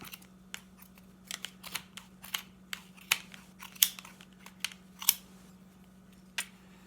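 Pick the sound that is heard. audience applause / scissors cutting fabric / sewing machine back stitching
scissors cutting fabric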